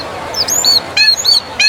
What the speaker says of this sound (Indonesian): Ada burung berwarna cerah sedang bernyanyi di tengah pasar.